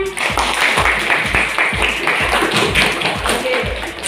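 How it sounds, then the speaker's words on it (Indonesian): A junior high school class claps for a student group after its presentation, a quick burst of rhythmic, fairly loud applause with some thumping, and voices talking over it. "Tepuk tangan semuanya"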